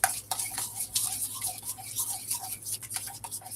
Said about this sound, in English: We're gonna put 7 little sporks in there of yogurt, and we're just gonna mix it up.